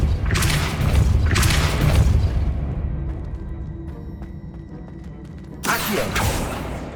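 Two heavy booming blasts of the Depulso force-push spell in Hogwarts Legacy, followed by a quieter stretch of faint mechanical clicks and creaks, then another loud surge near the end.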